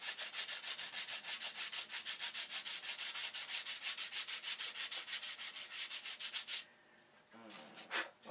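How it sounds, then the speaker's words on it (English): Rhythmic hand sanding of wood on a CLC boat build, with steady back-and-forth strokes close up for most of the stretch, then a short pause and a few more strokes. "And I'm only showing this sanding"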